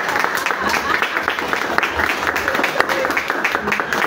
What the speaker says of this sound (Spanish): Les pido otro aplauso, por favor.